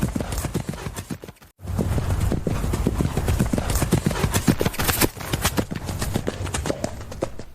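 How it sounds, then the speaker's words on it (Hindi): A horse gallops hard, its hooves drumming in a fast continuous clip-clop close by, with one brief break before the pounding resumes and carries on. "लेकिन घोड़ा भागता ही गया"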